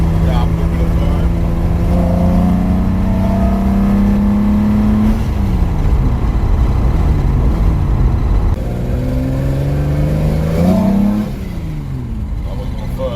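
A 265 Hemi engine in an old car on a dyno roars loud and close, its pitch climbing through gear changes, with a rattly mechanical edge and brief drops between pulls; someone talks over the run.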